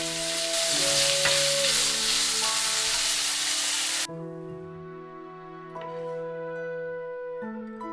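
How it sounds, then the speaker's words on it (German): Loud, steady sizzling of meat strips frying in a little oil in a hot pan, which drops abruptly halfway to a quieter simmer beneath a constant tonal hum. "Die Fleischstreifen kurz braten."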